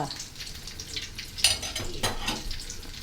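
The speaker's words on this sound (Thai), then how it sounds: "ให้น้ำมันร้อนนะคะ ไข่ดาวเราก็" An egg fries in hot oil for a fried-egg topping, giving off a steady crackling sizzle with a few sharper spatters and pops.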